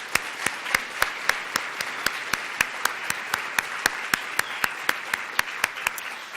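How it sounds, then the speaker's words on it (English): A live audience at a university health equity summit gives a round of applause, steady dense clapping held at an even level throughout. "The students, the faculty, the staff who work there, let's give them a round of applause."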